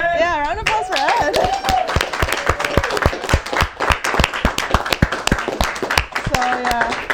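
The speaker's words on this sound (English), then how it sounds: "Round of applause for Ed." An audience at a gaming tournament's top 8 and grand finals gives a round of applause, sharp individual claps ringing out for several seconds, with voices talking at the start and end.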